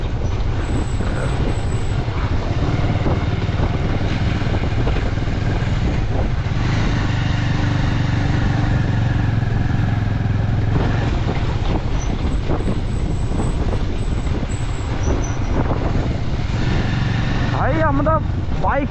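A motorcycle rides along a road on a trip toward a waterfall, its engine drone and wind rumble steady and loud throughout with no clear pauses.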